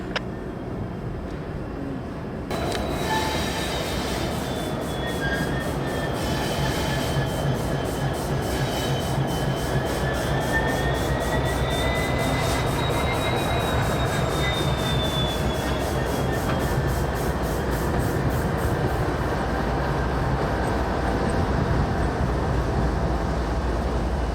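A long freight train carrying auto racks rolls steadily past at close range, with continuous rumbling wheels, rhythmic clacking over rail joints and high, wavering wheel squeal, loud and unbroken after a quieter opening.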